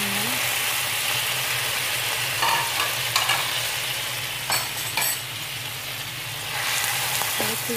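Fish stir-fried with soy sauce and onions, Chinese style, sizzles steadily in a hot pan, a dense continuous crackle with a few brief scraping stirs partway through and no voices.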